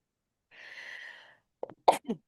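A single close sneeze: a drawn-out breathy intake followed by a few sharp bursts, with no talking.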